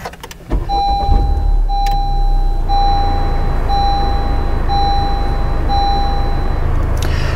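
A 2021 Honda Civic Type R comes to life with a loud, steady engine rumble, while a repeating electronic chime beeps at regular intervals from inside the cabin, heard close with no talking.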